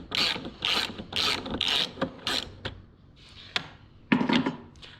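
A ratchet turning a number 6 Allen socket on a bolt of an old BMW E36 car: repeated close, crisp clicking bursts in a steady rhythm, then a short pause and a final few clicks, no talking.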